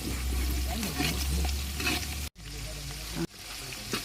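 Chillies dropped into a hot frying pan sizzle steadily at close range, with stirring scrapes and a couple of abrupt breaks in the sound, during hurried cooking on a travel day.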